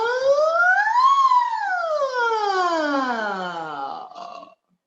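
A single open-mouthed vocal tone glides up, then slowly slides down, imitating a siren, before cutting off.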